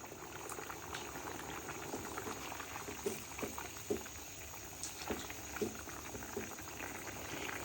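Bengali egg and potato curry bubbles in a pot with a continuous simmering boil, punctuated by occasional louder pops and splutters, with no talk.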